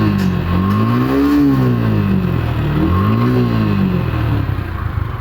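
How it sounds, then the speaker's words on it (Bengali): A motorcycle engine runs steadily up close and is revved twice, its pitch rising and falling in two smooth swells over a constant loud idle. "আমি বাইকের সাউন্ডটা শোনাইতেছি"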